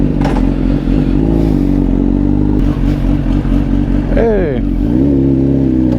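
A motorcycle engine roars loudly and continuously up close as the bike rides off, its pitch briefly sweeping during a rev near the end, while a voice calls out once over it.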